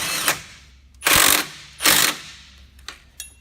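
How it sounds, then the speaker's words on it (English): Impact wrench snugging strut bolts on a 2001-2012 Ford Escape front suspension during a Motorcraft loaded strut install: a short blip followed by two loud, sustained rattling bursts close by, then a few faint clicks, with no talk. "What we're going to do for right now is we're going to just snug these with the impact."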